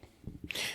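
A single quick human sneeze, a short breathy burst that ends in a sharp hissing rush, close to the microphone and heard alone.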